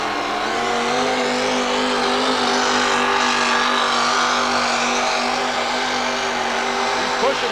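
A 4WD pulling truck, the Dixie Digger, roars steadily at full power while dragging a sled at a 1989 New Jersey truck and tractor pull, a loud, sustained engine drone with a constant high whine.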